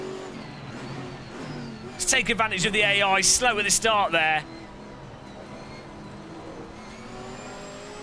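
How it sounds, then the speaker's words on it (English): A GT4 race car in Assetto Corsa Competizione hums along, then its engine swells into a loud, high, screaming rev for about two seconds before settling back, while someone talks over it. "this has possibly the nicest engine sound"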